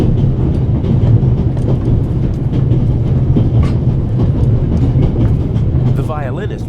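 A train rolling on rails, heard from on board: a loud, steady rumble with a low mechanical drone and faint rhythmic clatter that continues unbroken throughout.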